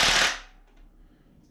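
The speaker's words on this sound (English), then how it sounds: "I'm just going to use a Bauer impact." Bauer impact wrench driving on the rocker bolts of an LS LM7 5.3 engine during teardown: one loud, harsh burst of hammering at the start, fading quickly into quiet shop background.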